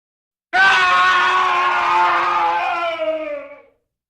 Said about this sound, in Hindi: एक रात गांव में भयानक चीख सुनाई दी।